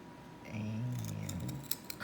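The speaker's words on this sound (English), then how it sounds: "We'll take our trusty scissors" Trusty craft scissors cut through paper in a few crisp snips and crunches near the mic, the blades closing with sharp clicks toward the end.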